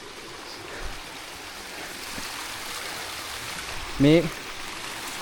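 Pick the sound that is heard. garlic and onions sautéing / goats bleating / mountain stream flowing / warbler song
mountain stream flowing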